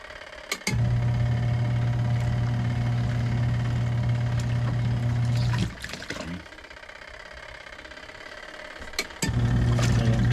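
A portable washing machine powered through an inverter while boondocking churns steadily with a low motor hum and agitation, pausing midway into quieter sloshing and clicks before the hum resumes, close by and alone.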